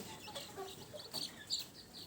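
Small baby chicks being given golden starter feed in the morning, faint soft clucks and peeps scattered through a quiet background, a couple of brighter calls standing out near the end.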